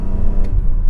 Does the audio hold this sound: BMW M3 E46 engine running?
yes